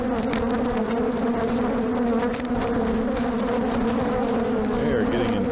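A dense, steady buzzing of many honeybees swarming close to the microphone at an open hive, loud and continuous throughout with no pauses.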